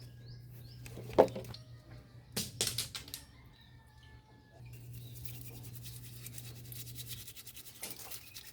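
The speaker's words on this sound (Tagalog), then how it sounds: "Bubuhusan ko siya tapos babrushin." Scrubbing strokes of a brush cleaning a Honda XR150 speedometer gear soaked in degreaser, close and quiet, in short bursts and then a longer steady scrub.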